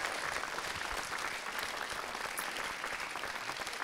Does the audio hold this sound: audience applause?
yes